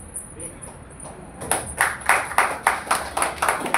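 Spectators at a traditional Double Bari performance near a Datta temple break into loud, rhythmic group clapping, steady repeated claps building after a quieter start with a high ringing tone in the background.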